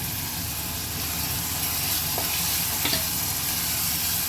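Tomatoes go into onion paste that is already sizzling in hot oil for a spicy Maharashtrian dal tempering. A steady, close, dense frying hiss and crackle runs throughout, with faint stirring scrapes and no talk.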